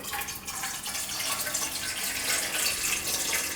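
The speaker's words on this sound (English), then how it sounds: "Just gonna add in a little layer of water" Hot water pours steadily into a pressure cooker pot to make a shallow layer for steaming pork belly with taro, a continuous close splashing hiss with no talk.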